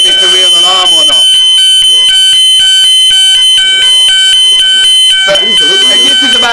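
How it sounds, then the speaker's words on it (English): Loud building fire alarm sounds continuously, a repeating electronic tonal pattern of beeps filling the room, with the alarm alone and no talk over it. "everyone sits there every time the fire alarm goes"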